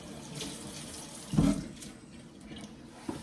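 Tap water runs into a sink while a gutted pumpkin is rinsed, a quiet close splashing stream with one louder gush partway through.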